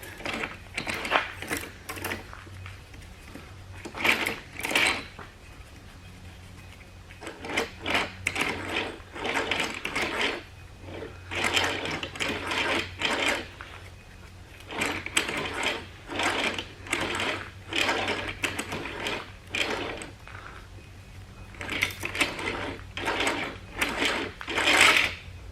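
Brake line tubing pulled through a tube straightener to remove kinks, making repeated rhythmic clicking and ratcheting bursts in a steady sequence of close, mechanical passes.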